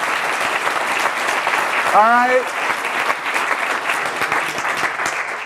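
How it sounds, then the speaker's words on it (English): Audience applause fills a university seminar hall, a dense steady clapping that runs throughout, with someone briefly speaking over it partway through. "Oh, we have applause."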